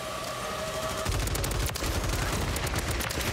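Rapid, steady bursts of Ram 7 rifle fire in Call of Duty: Modern Warfare III, a no-recoil Trident X build, loud and close with dense repeated shots starting about a second in and continuing without pause.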